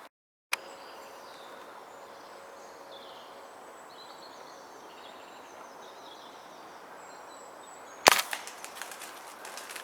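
Walther RM8 .22 airgun fired at a wood pigeon outdoors, a single sharp crack late in the clip followed by brief rattling impacts, set against quiet countryside ambience with faint birdsong.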